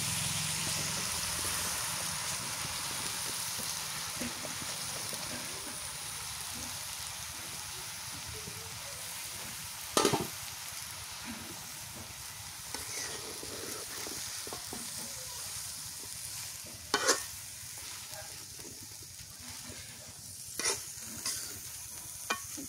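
Taro leaves and diced local potatoes frying with dried fish in a pan, a steady soft sizzle with occasional sharp stirring clacks, close and fairly quiet, no talk.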